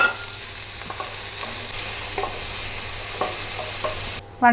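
Onions sautéing with a little salt in a pan for Kerala-style beef curry, a continuous close sizzle broken by several soft stirring scrapes, with a short clatter at the very end and no voices.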